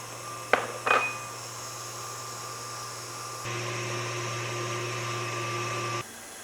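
An electric mixer whips eggs in a separate bowl while flour with baking powder is sifted: a couple of sharp taps, then a steady whirring drone that steps up louder midway and cuts off near the end.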